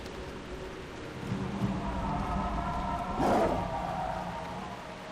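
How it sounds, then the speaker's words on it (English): Steady rain falls in the World of Warcraft video game, a continuous even wash of ambient rainfall with a brief swell in the middle and no talking. "Here, enjoy the rain"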